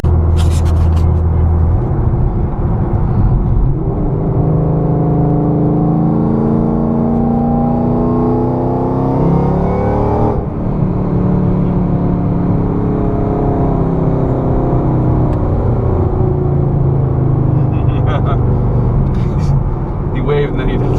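A 2014 Shelby GT500 accelerates on the road, its engine droning loud and steady with rising and falling revs throughout, heard from inside the car.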